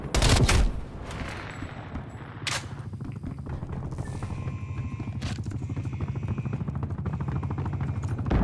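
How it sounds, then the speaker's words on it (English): An enemy attack helicopter in Call of Duty: Black Ops Cold War multiplayer rotors overhead with a steady pulsing chop, cut through by loud bursts of rapid gunfire at the start and again mid-clip. "Hostile attack helicopter inbound."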